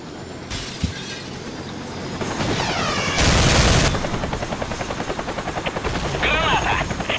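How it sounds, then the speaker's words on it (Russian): A helicopter flying in a competitive multiplayer shooter match, its steady rotor chop pulsing loudly throughout, with a loud burst of noise midway and faint gunfire mixed in. "Медведев полетел на вертолете"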